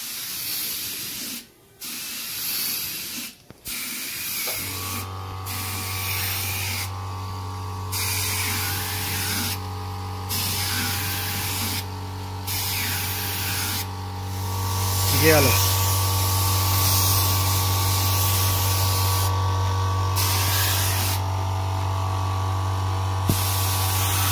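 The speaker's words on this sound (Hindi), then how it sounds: "हाई प्रेशर पे ही आपको स्प्रे करना है" A high-pressure spray gun hisses steadily for about twenty seconds while spraying gold paint onto steel, a continuous loud airy rush with a constant low hum beneath it, opening with a few brief bursts before the sustained spray.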